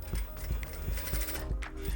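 A sewing machine stitches fabric for a blouse with ruffled sleeves, making a quick, regular mechanical clatter with evenly spaced thumps, close and steady for the whole stretch.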